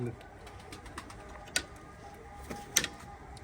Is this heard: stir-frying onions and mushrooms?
no